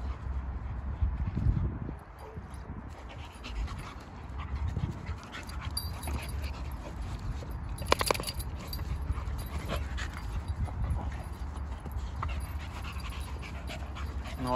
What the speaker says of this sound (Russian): Что вы боретесь и боретесь, собаки?